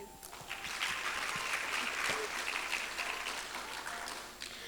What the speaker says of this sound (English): So big round of applause, guys